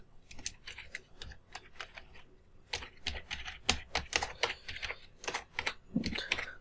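Quick, irregular clicks of a computer keyboard as code is typed, close and crisp, coming in short bursts with brief pauses and no talking.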